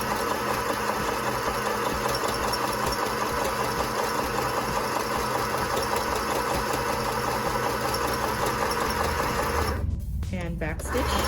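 A sewing machine runs steadily while stitching a fabric face mask, forward and then back to lock the seam, with a constant close mechanical whir that halts abruptly near the end.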